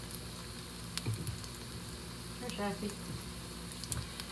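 An egg frying in a pan for a lunch-meat sandwich, giving a steady close sizzle with a few small pops and scrapes, with a voice speaking faintly over it.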